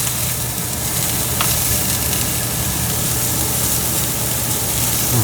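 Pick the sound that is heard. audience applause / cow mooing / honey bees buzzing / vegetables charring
vegetables charring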